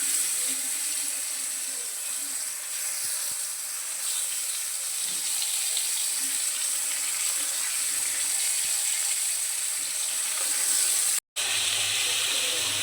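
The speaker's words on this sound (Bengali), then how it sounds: "একটা একটা করে দিয়ে ভালো করে ভেজে নিতে হবে।" Flat beans (sim) frying in oil with salt, a continuous bright sizzle and hiss holding steady throughout, with a brief dropout near the end.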